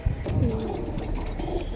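Caged pigeons cooing in a soft, low, continuous murmur, close by and steady.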